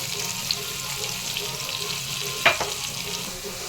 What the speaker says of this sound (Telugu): ఆనియన్స్ గోల్డెన్ బ్రౌన్ కలర్ వచ్చినాక ఫ్రై చేసేసుకున్నాం.